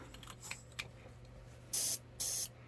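A Harbor Freight airbrush on its compressor gives two short, loud bursts of hissing spray, each about a third of a second, following quieter handling clicks.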